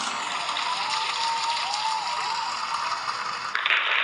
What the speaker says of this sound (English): Please give a huge round of applause for all the award winners.